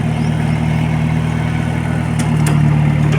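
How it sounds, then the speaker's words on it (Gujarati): A mini tractor's engine runs steadily nearby, a loud, even mechanical drone with a low hum and light clatter, with no voices over it. "જો આ છે મિની ટ્રેક્ટર"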